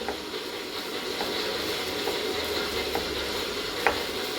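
Grated coconut fries in a pan for rice laddu, a continuous close sizzle with light spoon scrapes ticking through it and one sharper clink near the end.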